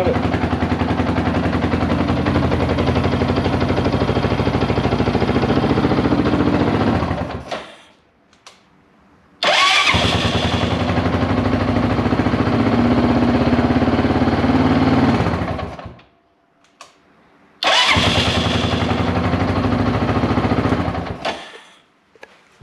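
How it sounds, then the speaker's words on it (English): Honda XR650R motorcycle engine fitted with a C-Fab electric start kit, heard as three loud bursts of running engine, each cutting off abruptly into near silence before the next, with no talk over it. "Now we're going to do a start of the C-Fab kit on his XR650R."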